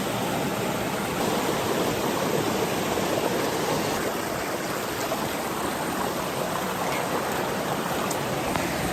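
River water flows steadily in Jamaica, a constant close hiss and babble of a stream with no break or voices.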